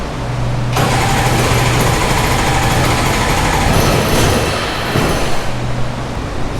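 A used Sea-Doo XP Limited jet ski with a Rotax 951 engine and a spark fault cranks and tries to fire, a loud, rough, continuous churning lasting several seconds before cutting out.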